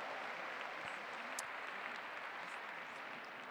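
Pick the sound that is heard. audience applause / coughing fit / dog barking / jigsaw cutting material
audience applause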